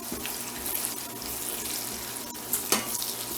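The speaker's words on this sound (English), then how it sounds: "Okay, our garlic's just starting to get brown. We'll go in with our Spam. Give this a turn." Garlic and Spam fry in a hot pan with a loud, dense, steady sizzle, broken by a couple of scraping stirs near the end.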